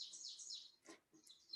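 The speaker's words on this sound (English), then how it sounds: "that song is probably familiar to a lot of you, even if you didn't know that it was an ovenbird who makes that, teacher, teacher, teacher call" Ovenbird, a small North American forest warbler, singing its repeated teacher-teacher call: a run of bright, high chirping notes, fairly faint and alone, with a short pause before a final phrase.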